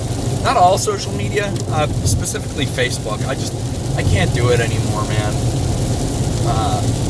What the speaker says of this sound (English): And I'm sorry about the background noise. It's raining like a motherfucker.